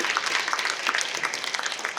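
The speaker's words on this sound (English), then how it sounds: "Round of applause for yourself" An audience at a Goofy Movie fan convention panel claps and cheers, a dense, steady burst of applause from a crowd at mid distance.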